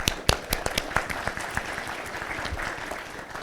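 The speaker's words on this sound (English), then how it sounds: "let's give this audience a round of applause." Audience applause at a wine industry symposium, a dense wash of many hands clapping with sharper individual claps standing out early, then settling into steady, moderately loud clapping throughout.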